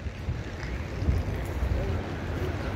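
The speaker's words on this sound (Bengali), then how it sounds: "ভালো হাওয়া দিচ্ছে কিন্তু" Wind gusts steadily across an open mountain roadside on the way to Badrinath, a broad low rumble of buffeting air against the microphone that rises slightly midway and carries on without a break.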